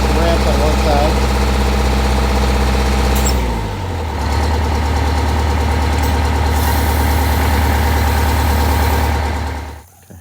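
Diesel engine of an MCI 5 coach bus idling and rumbling steadily as it backs onto ramps, a deep continuous drone with a shift in tone partway through and a brief hiss near the end.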